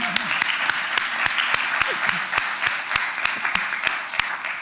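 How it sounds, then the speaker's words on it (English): Applause from a city commission meeting audience honoring the team, dense steady clapping with sharp louder claps standing out, a murmur of voices beneath. "please a round of applause for the team"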